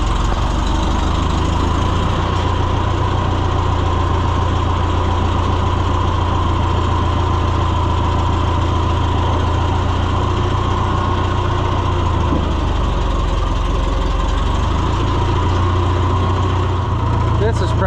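A small engine on a fence-building job in cold weather sputters to life and settles into a steady, loud, close idle with a rough, knocking rumble that runs throughout.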